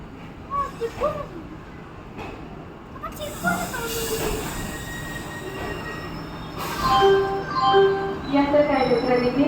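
Bangalore–Ernakulam intercity train pulling into Ernakulam Junction station, with loud metallic wheel squeal and brake screeching rising over the rumble of rolling railcars, strongest near the end, with faint voices in the background.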